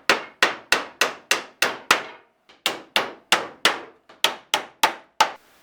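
Old nails hammered into pallet wood boards for a rustic chair: a steady run of sharp, ringing hammer blows, about a dozen close strikes in two quick bursts with a short pause between.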